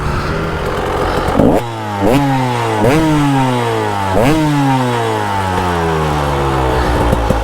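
A KTM 300 EXC two-stroke dirt bike fitted with an aftermarket silencer revs hard and close, its buzzy engine note climbing repeatedly through the gears with sharp rises and drops in pitch.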